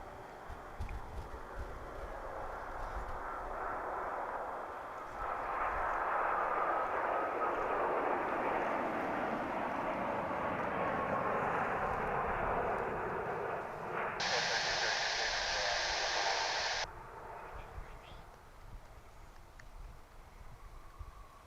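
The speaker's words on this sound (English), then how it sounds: "Another Dreamliner." A Boeing 787 Dreamliner passes at DFW Airport, its broad jet engine roar swelling and holding steady before easing off, with wind buffeting the microphone and a brief higher whine midway.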